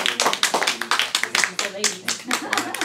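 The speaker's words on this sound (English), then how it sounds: "Ladies and gentlemen, a big round of applause to Dr. Rich Castellano." A live audience claps in dense, continuous applause at a cosmetic plastic surgery presentation. The clapping is close and fairly loud, with voices talking and calling out over it throughout.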